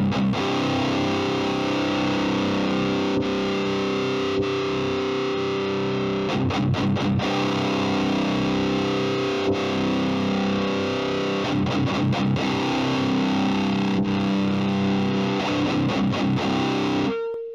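Electric guitar played through a Presonus Ampire amp simulator set to 7 watts, a thick distorted tone with sustained chords and a few choppy bursts, loud and continuous without talk.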